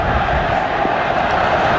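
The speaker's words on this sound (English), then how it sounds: "the crowd are already involved, right behind the captain" A cricket crowd at the India vs Australia first Test, day one, keeps up a steady, dense roar of cheering and murmur that fills the whole short stretch without a break.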